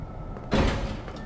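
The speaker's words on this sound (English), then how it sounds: "why is this door so loud?" A loud door opening in the Five Nights at Freddy's Security Breach video game, a single sudden heavy swoosh with a thud that fades over half a second.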